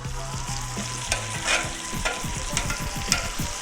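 Shrimp for tacos sizzle on a hot grill with a constant close frying hiss, broken by rapid scraping and tapping as they are moved and flipped.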